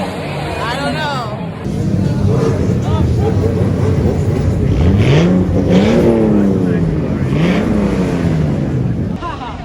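Car engines revving along a crowded Tokyo street on Halloween night, rising and falling pitch sweeps passing close by over a steady crowd hubbub and traffic noise.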